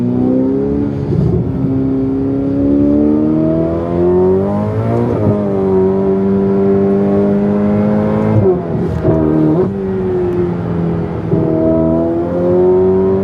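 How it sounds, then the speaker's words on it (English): A Ferrari F8 Tributo with an aftermarket exhaust revs loudly and continuously, its deep exhaust note rising and falling through gear changes with sharp pops and dips, close and unbroken. "He's also got aftermarket exhaust too,"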